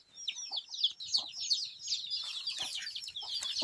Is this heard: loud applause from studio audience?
no